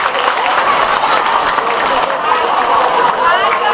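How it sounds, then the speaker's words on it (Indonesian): A large crowd at a Maulid Nabi commemoration applauds steadily and loudly throughout, a dense wash of clapping with no pauses. "Tepuk tangan untuk Indonesia."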